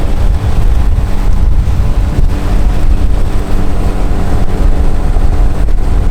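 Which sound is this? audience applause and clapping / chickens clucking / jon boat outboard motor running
jon boat outboard motor running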